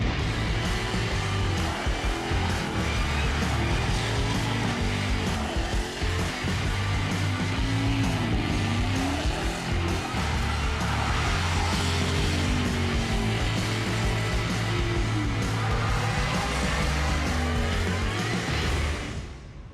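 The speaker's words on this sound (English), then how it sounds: "Donuts in a dually." A supercharged E85 dually pickup truck does donuts and burnouts, its engine roaring steadily and loud for the whole stretch, with revving, tire noise and a dense wash of crowd and outdoor background under it.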